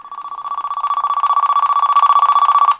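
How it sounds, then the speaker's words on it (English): A Motorola British Telecom brick phone plays its single ringtone as a steady, rapid electronic trill, the pulsing tone sounding close and clear while its volume level is adjusted. "to change the ringtone level, you'd go that, and obviously press up or down, and you can hear that obviously decreasing"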